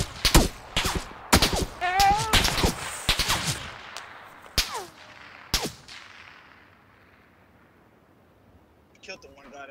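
Gunfire in PUBG: sharp, loud rifle cracks in quick clusters, then scattered single shots tapering off into quiet. A voice talks briefly over the early bursts.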